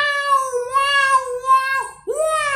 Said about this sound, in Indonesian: kucing jantan di sini kampung itu pada ngeong-ngeong semua, pada birahi semua, datang ke rumah aku di sini